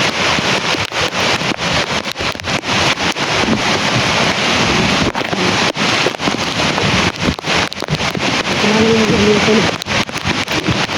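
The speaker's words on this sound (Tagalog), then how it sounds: "Sobrang lakas ng ulan." Very heavy rain pours down during a flood near a creek, a loud, steady broadband roar with wind buffeting the microphone throughout, and a voice speaks briefly near the end.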